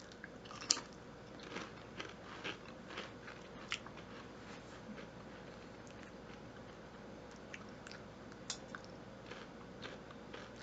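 Crunchy Quest protein chips are chewed up close, with soft irregular crunches and bites scattered over a quiet room background and no talking.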